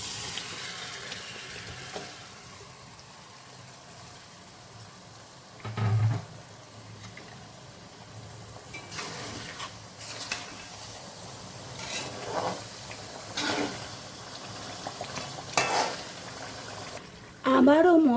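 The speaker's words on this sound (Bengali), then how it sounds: "এই পর্যায়ে আমি ম্যারিনেট করা চিকেনগুলো দিয়ে দেব।" Marinated chicken pieces fry in a spiced masala, giving a quiet, steady sizzle with occasional stirring scrapes and brief splashy bursts, and a voice talks intermittently over the cooking.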